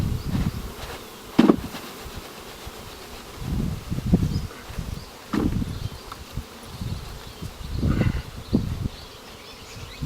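Honeybees from a package, just shaken into a new hive, buzz in a steady, agitated drone with louder swells and passing bees close to the microphone, no voices present.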